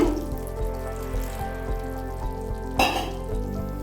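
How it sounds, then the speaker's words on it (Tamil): Water poured into a pan of frying vegetable kurma with coconut, onion and tomato, a steady close sizzle running throughout with a brief louder splash and hiss near the end. "உங்களுக்கு தேவையான தண்ணி ஊற்றிக்கோங்க"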